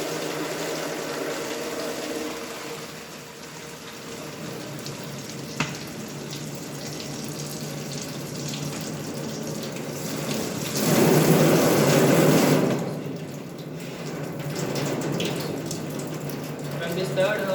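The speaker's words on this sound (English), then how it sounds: "Now I am filling this bottle with water." Water poured from a tap into a plastic waste bottle with holes punched in its side, a continuous splashing rush that swells louder for a couple of seconds near the end before easing back.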